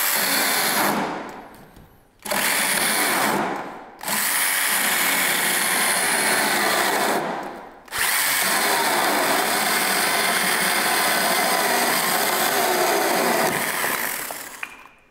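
A cordless battery pruning saw, a 12 V or 18 V model, cuts through a branch, its motor whirring loudly and roughly in several long runs broken by short stops.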